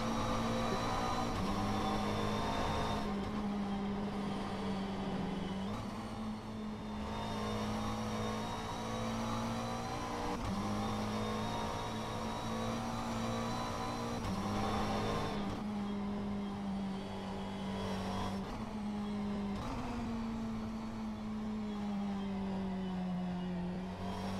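Race car engine in a racing simulator game, a steady droning tone with gear-like pitch steps and brief dips as the car lifts and accelerates through corners, heard alone at moderate level without talk.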